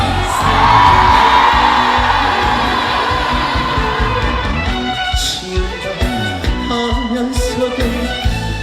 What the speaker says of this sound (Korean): 자 괜찮으신 분들 전방에 크게 함성 한번 주십시오 함성!